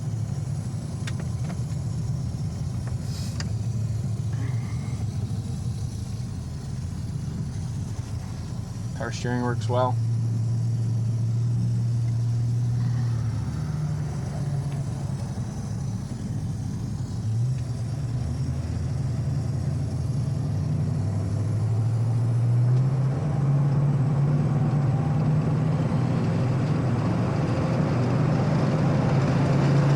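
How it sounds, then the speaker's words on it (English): A 1969 Oldsmobile 442 on the road heard from inside, with a steady low engine drone and rumbling road noise rising and falling with shifts, under someone talking over much of it. "I want to at least show you how they go down the road"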